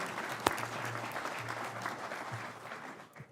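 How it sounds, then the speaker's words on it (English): An audience at a hearing applauds for a group of Alaskans, a steady patter of many hands clapping at moderate distance with a few louder claps near the start, fading slightly toward the end. "How about a round of applause for my fellow Alaskans?"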